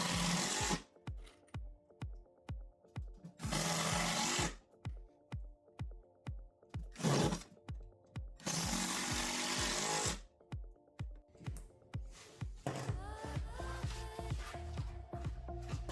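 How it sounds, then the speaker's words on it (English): Power drill driving 2-inch drywall screws through a side wall into a cabinet's middle wall, in loud, close bursts of whirring and clattering separated by gaps with repeated ticking, no one talking. "Then I drive 2-inch drywall screws through that side wall to secure the middle wall to the base."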